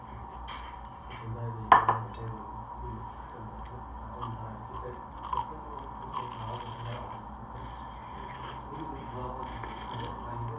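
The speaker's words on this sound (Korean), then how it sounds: "뭔지 잘 모르겠는 튀김인데 제가 한번 먹어보겠습니다" Someone eats fried crab meat, likely red snow crab, dipped in sauce, with quiet close-up crunching and chewing, soft clinks of utensils and a sharp crackle near the start, over faint low room noise.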